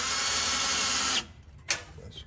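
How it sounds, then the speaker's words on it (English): Power drill whirs loudly and steadily as it drives into a storm door frame, then stops abruptly; a short sharp burst of drilling follows and trails off. "let's get my drill."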